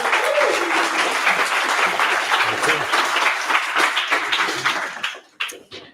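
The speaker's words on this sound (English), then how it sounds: "Round of applause, everyone." A live audience at a tech demo night in Cornwall gives a sustained round of dense clapping that carries on for about five seconds, then thins into a few scattered claps at the end.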